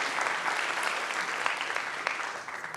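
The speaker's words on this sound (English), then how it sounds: "You should clap now." A conference crowd at Chain React 2024 fills the room with steady applause after a talk on microinteractions, a thick, even wash of many hands clapping, loud and unbroken, slowly thinning toward the close.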